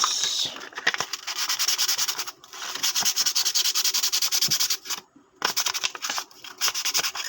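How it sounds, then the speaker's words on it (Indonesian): Sandpaper rubs rapidly back and forth in quick rhythmic strokes, close up, sanding rust off a fishing reel, with a few brief pauses between bursts. "Yang karat-karat ini saya amplas."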